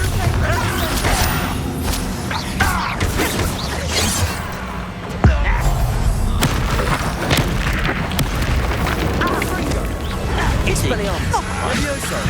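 Bombarda explosion spells blast in Hogwarts Legacy combat, with loud, dense booms and crashes, one sharp hit standing out, over constant battle noise and cast-spell voices.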